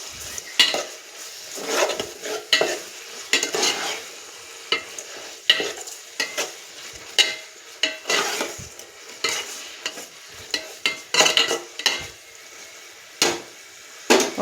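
A spoon stirs fish curry with garlic paste in a sizzling pan, making repeated scraping and clinking strokes in an uneven rhythm over a soft frying hiss, close and with no talk.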